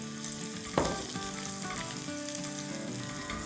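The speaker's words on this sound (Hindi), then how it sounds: "लहसुन को बस 30 सेकंड फ्राई करेंगे, गहरा नहीं करना है" Garlic and broken dried red chilies fry in oil, giving a dense, close, continuous sizzle with one brief splattering burst near the start and faint stirring throughout.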